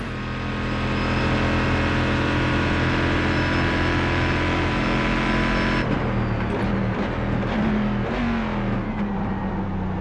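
A Corvette GT1 race car engine in the iRacing simulator at Fuji roars steadily at high revs, loud and close, then drops and shifts through gears with rising and falling pitch as it brakes and reaccelerates.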